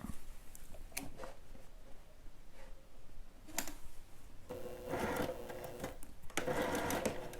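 A sewing machine stitching a dress bodice seam, short whirring runs broken by pauses and small clicks, with a faster, louder burst of stitching near the end, heard close up.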